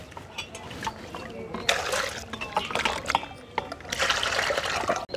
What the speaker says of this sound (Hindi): उबलने के लिए थोड़ा सा बाद डाल देते हैं पानी